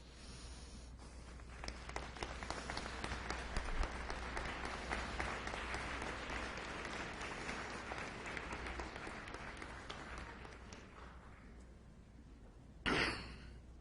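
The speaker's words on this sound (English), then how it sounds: "applaud them for the support they've given you over the years" At a Sault College graduation convocation, the crowd applauds parents, partners and friends with a long, even wash of clapping that stays steady for over ten seconds before tapering, followed by a single brief knock.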